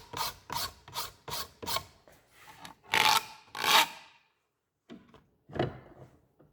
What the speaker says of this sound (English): put this in the vise and just start filing it down to get it the shape a little bit more refined